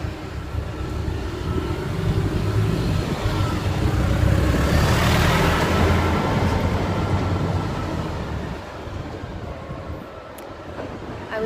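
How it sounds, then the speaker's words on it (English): A truck driving past on a road, a broad rumbling swell that builds to a peak near the middle and slowly fades as it passes, heard alone without talk. "Let's take a breath while this truck drives by."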